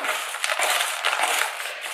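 Crisp, continuous rustling and crinkling of paper slips being stirred and shuffled close up, busy and unbroken for the whole moment.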